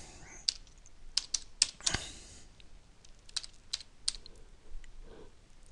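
Someone types on a computer keyboard, a scattered burst of crisp key clicks close by, some quick in succession and then sparser single taps, with a quiet room behind.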